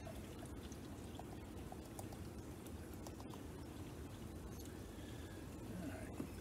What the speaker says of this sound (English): It's a nice pour here.